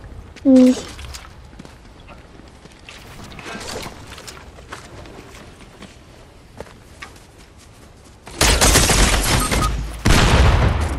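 Gunfire rings out in a Fortnite match as scattered sharp shots and clattering bursts, including a louder sustained stretch of heavy firing near the end, with footsteps and in-game sounds around it.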